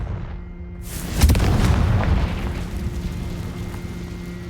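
In the video game Hogwarts Legacy, a Confringo explosion spell erupts with a sudden heavy boom, followed by a rumbling, crackling roar that slowly fades over a low droning hum.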